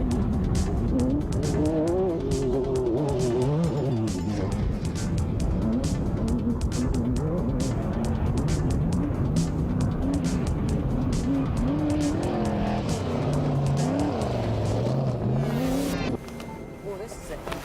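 Off-road race cars tear around a twisting course, engines revving hard and wavering as they roar continuously up close, with tires scrabbling beneath the noise until it cuts off abruptly near the end.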